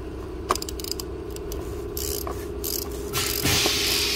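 A torque wrench clicks and ratchets up close while a bolt is tightened during an oil change on an Audi, rapid mechanical clicking over a constant background hum for about four seconds.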